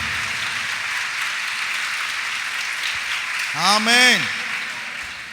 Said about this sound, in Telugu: అందరూ గట్టి గట్టి గట్టి గట్టి గట్టిగా చప్పట్లు.